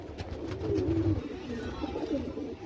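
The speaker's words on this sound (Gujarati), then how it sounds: "કબૂતરને ચણ થોડી થોડી નાખી અને એક બે જેવા ઉડી છે ઉપર." Pigeons coo steadily at close range while being fed grain, a low, rolling murmur from several birds with no talking over it.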